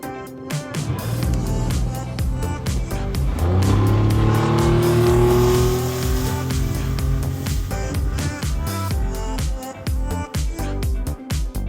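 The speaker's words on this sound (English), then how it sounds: "The engine is working." A restored small boat's engine runs loud and close, its pitch rising and falling as it revs, with a continuous rumbling drone throughout.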